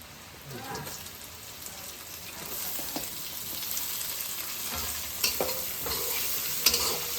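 Potatoes and carrots fry in a pan, giving a steady, crackling sizzle with scraping stirs and a few louder clacks of the utensil toward the end.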